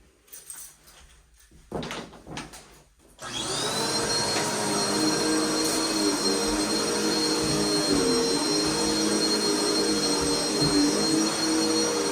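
A vacuum cleaner on carpet in a mobile home rental unit switches on after a few seconds of knocks and shuffling, then runs with a loud, steady whine and roar until the end.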